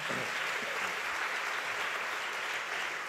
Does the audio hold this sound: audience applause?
yes